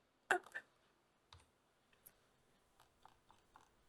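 A few quiet, sharp keyboard key clicks, including a Ctrl-Enter shortcut: a quick cluster at the start, then scattered soft taps spaced out in a quiet room.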